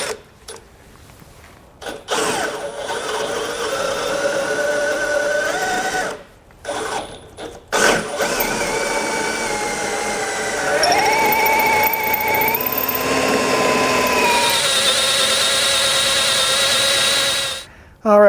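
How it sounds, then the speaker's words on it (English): A drill with a bit bores out lubricated mounting holes while fitting a Blue Ox base plate kit to a 2013 GMC Terrain, several loud sustained whining runs with shifting pitch, separated by brief stops. "we'll put a little bit of lubricant in there and then use the same size bit and drill these out"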